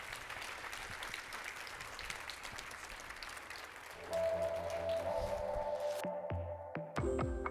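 A conference audience at the NCRC Just Economy event applauds in a dense, sustained clatter for about four seconds, then fades under sustained musical tones.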